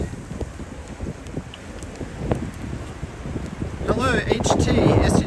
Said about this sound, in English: Oh, that was a very, very cold burst of wind.